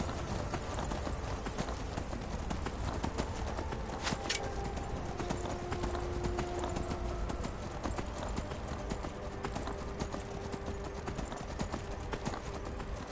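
Horse hooves clip-clopping steadily in the video game Skyrim, a continuous rapid patter of hoofbeats over ambient game sound.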